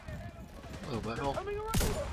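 Gunfire from The Division 2 video game crackles as a brief burst of shots near the end, set against steady game noise and a talking voice.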